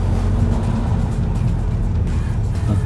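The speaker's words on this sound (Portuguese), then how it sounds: "E tô ouvindo o barulho do motor de combustão." The combustion engine of a hybrid electric car runs steadily from inside the cabin, a dense low drone with constant loudness and no voices over it.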